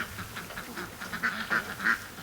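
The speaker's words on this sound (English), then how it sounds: "it's been a pretty steady stream of ducks heading down in that direction today" Quiet quacking comes from a stream of ducks heading down toward a lake, a few scattered calls at moderate distance over soft outdoor background noise.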